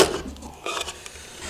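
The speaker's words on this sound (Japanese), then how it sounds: "ここに穴を開けていきます。" A drill bores a hole through a thin wooden part of a small cat-altar build made from budget-store materials, working on a classroom workbench. Short scraping and grinding bursts come close up and uneven, with no talk.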